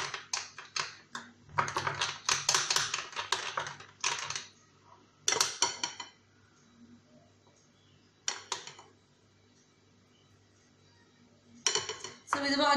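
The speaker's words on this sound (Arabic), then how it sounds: "صافي غادي نخلط حتى غادي تخفف لي هذيك النوتيلا شوية" Nutella being stirred in a bowl to thin it for crêpes, with clinking spoon-on-bowl scrapes in irregular bursts separated by short pauses, close and crisp.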